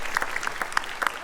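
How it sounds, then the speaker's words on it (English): Audience applause at a PaleyFest LA 2024 Family Guy 25th anniversary celebration, a short burst of scattered, crisp clapping from a crowd. "We can give him a round of applause."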